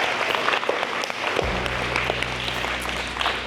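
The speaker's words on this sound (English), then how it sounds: "huge, massive round of applause" Applause from a wellness conference audience, a dense steady patter of many hands clapping throughout, with a low sustained hum entering partway through.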